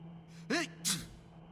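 A single sneeze from a character in the stealth game Thief: Deadly Shadows: a quick sharp intake followed by a short explosive burst, close and clear over a quiet, humming background.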